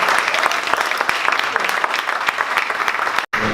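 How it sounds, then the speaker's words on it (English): Audience applause at a Dallas startup pitch event, a dense crowd clapping steadily and fairly close for several seconds before cutting off abruptly near the end. "One more round of applause for MediBookr."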